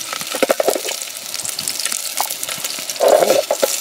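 Oil frying in a titanium pot set over a Bushbox XL wood-burning stove, a steady close crackling sizzle with brief louder bursts of spattering.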